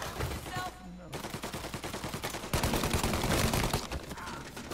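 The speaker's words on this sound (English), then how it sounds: "That's how you use a Tommy gun." Rapid bursts of automatic Tommy gun fire in Mafia: Definitive Edition on PS4, loud and sustained, with a brief pause before a heavier continuous volley.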